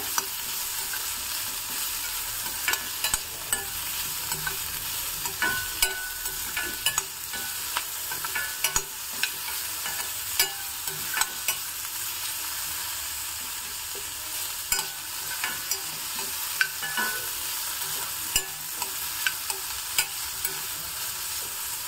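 Cucumber pieces fry and sizzle in a pan with a steady hiss throughout, punctuated by frequent sharp clicks of a spoon stirring, with no talking.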